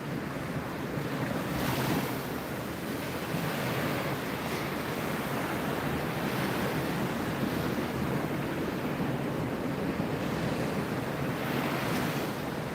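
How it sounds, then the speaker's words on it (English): Continuous roar of ocean surf breaking nearby on a beach, loud and steady with wind buffeting the microphone and no voices. "The waves are so loud."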